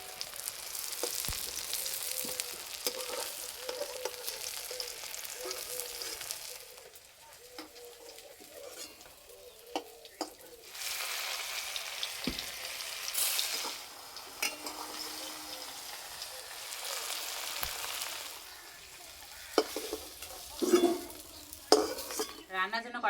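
Banana flower and egg frying in mustard oil in a pan, a sustained sizzle that rises and falls with stirring, punctuated by metal utensil clinks and scrapes against the pan, close up and without talk.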